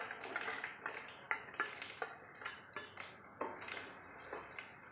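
Chopped ginger pieces tumble into a pan of pomegranate pickle with chilli and curry leaves, giving a string of light metallic clinks and taps in an uneven rhythm, close and fairly soft, with no talking.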